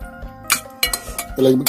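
Spoon clinking against a bowl of noodles during a mukbang meal, a few close, sharp metallic taps scattered among soft eating and handling noises.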